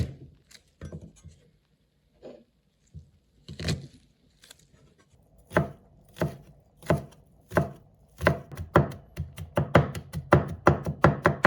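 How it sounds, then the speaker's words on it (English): A knife mincing garlic and ginger on a cutting board, starting with scattered chops and speeding into a fast, steady run of close, crisp knocks, with no talking. "Prepare minced garlic about 30 grams 2 tablespoons."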